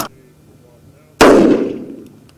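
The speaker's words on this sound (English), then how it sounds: "you can hear the sound volume of the det going off" A single L2A2 electric detonator goes off in the open with one sharp, loud blast after a quiet moment, followed by a rumbling decay that fades over about a second.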